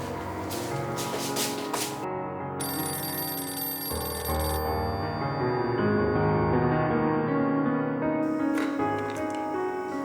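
An electronic telephone ring sounds steadily throughout, a repeating tonal ringtone with shifting pitches, loud and unaccompanied by voices.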